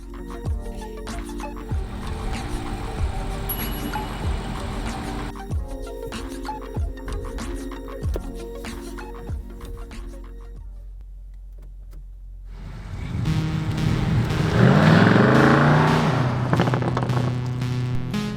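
A BMW M850i xDrive Convertible's soft top closes: a whirring electric motor runs with mechanical clicks and clunks for several seconds, pauses briefly, then a second motorized whine rises louder before settling.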